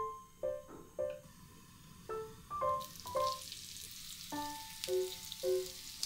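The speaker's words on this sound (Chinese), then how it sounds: "然后用中小火把它两面煎到金黄就可以了" Flour-coated fish fries in oil heated to medium in a pan over medium-low heat, giving a soft, steady sizzle with a few crackles, heard close up beneath light background music.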